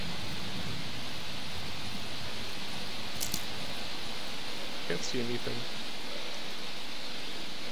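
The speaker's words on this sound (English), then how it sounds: "it's raining" Steady rain in the video game Darkwood, a dense, even hiss of falling water throughout, with someone speaking briefly over it.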